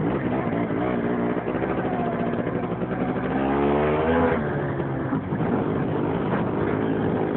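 An MZ 150 motorcycle engine runs steadily while riding, a continuous droning note that rises briefly in pitch mid-way as the throttle opens, then settles back to a constant loud hum.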